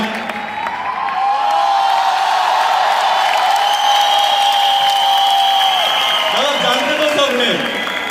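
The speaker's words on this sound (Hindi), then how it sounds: "एक बार जोरदार ताली हो जाए दोस्तों" Loud, sustained audience applause fills an anniversary awards ceremony in Kolkata, dense clapping with cheers and a high whistle or whoop running over it throughout.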